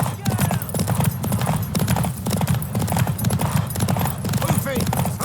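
Galloping horse hooves in The Witcher 3 pound in a dense, fast rhythm throughout, loud and close, with a faint whinny, while someone shouts encouragement over them.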